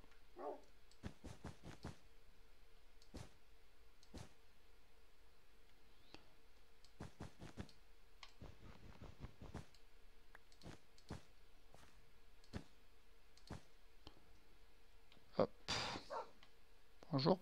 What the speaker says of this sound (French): Je parie que c'est les chiens de Jade.